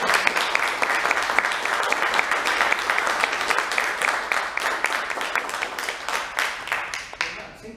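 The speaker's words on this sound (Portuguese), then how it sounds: "Uma salva de palmas." Applause follows a doctoral thesis defense at USP in São Paulo: a room full of steady, crisp clapping that holds evenly, then thins out and fades over the last second or two.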